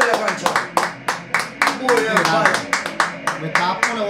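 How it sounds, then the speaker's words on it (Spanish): Football fans applaud in a River Plate stadium in Argentina, with steady close hand claps in an even rhythm, about fifteen sharp slaps that ring out loud and near over faint crowd noise. "Vamos a aplaudir, macho."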